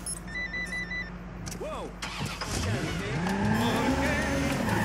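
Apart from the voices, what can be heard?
stolen car starting and driving off in Watch Dogs 2 video game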